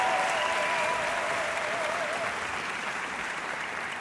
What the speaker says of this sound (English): Give Maestro a round of applause as he leaves.